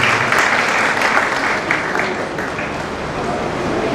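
An audience at a Varisht Pariwar community event in Dahisar East gives a loud, sustained round of clapping with crowd murmur beneath it.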